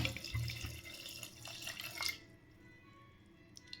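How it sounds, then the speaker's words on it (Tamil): Water pours into chana dal in a pressure cooker, a steady splashing rush for about two seconds that then drops to a faint trickle. "கடலைப்பருப்பு தேவையான அளவு தண்ணி சேர்த்துக்கலாம்"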